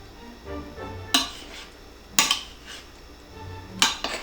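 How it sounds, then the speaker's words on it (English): Utensils clanking against a bowl while a wheat berry salad is mixed, three sharp scraping clinks spaced about a second apart over soft stirring rustles, with no talk. "Time to mix it in, okay?"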